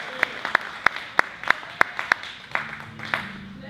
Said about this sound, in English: Please, I want us to give a hand clap for Minister Augustine.